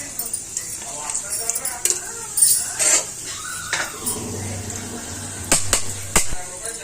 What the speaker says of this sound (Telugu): ఇప్పుడు హీట్ అయ్యాక హోల్ గరం మసాలా వేసుకోవాలి ఫ్రెండ్స్.